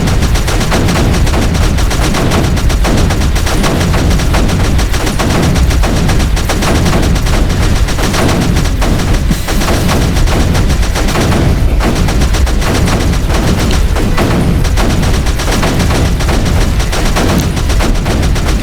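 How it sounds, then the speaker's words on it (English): Dense, continuous cannon and gun fire from the strategy video game Creeper World 3, with two lines of guns shooting at once, loud rapid shots packed together without a break for the whole stretch and no talking. "he's firing 2 lines of guns, and he's taking out a lot more creeper"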